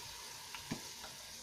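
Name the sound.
lamb meat searing in a pan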